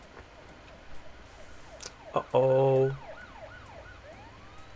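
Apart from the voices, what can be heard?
sirens in Silent Hill movie scene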